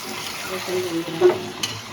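Mutton curry frying in a pan and being stirred, giving a steady low sizzle with a few soft scrapes and one brief louder clink near the end, fairly quiet and without speech.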